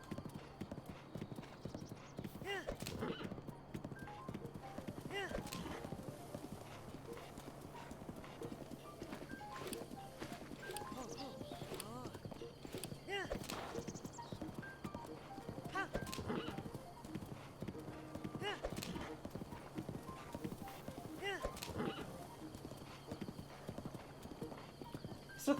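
Horse hooves galloping in a video game, a fast, steady clip-clop that runs continuously at close range, with occasional whinnies and players chatting over it throughout.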